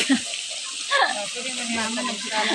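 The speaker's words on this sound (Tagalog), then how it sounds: "Ang tubig." Water runs steadily with a broad, even hiss, while voices talk and call out over it.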